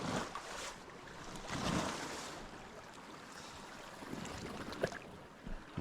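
Strong sea waves wash against a small fishing boat in a running current, making a soft continuous rush and splash with occasional sharper slaps. The sound is faint and distant, and no one speaks.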